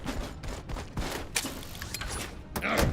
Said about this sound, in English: I do not know why these game devs gave me this fucking shock SMG so early.